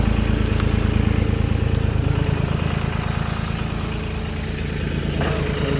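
A Valmet tractor engine runs at a steady idle with its PTO turning, a close, continuous low rumble and mechanical clatter.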